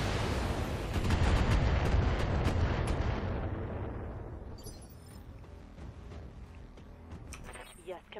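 A Battletech mech looses a salvo of missiles: a loud, dense, rumbling roar of launches and impacts that swells in the first seconds and then slowly fades, with crackling debris near the end.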